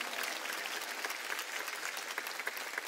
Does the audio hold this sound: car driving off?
no